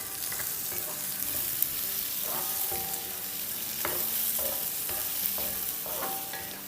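Green chillies sautéing in a pan for a chicken chilli dish, a steady close sizzle of frying with repeated scraping stirs throughout, no voices.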